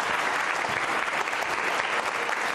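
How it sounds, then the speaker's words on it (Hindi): Audience applause at a Ramadan quiz show, a steady dense burst of clapping from a crowd, full and even throughout without pauses. "तालियां जोरदार बजाइए साहब।"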